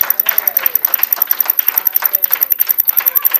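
A church congregation claps in unison to acclaim the Lord, a brisk, even rhythmic clapping close and loud throughout the short burst.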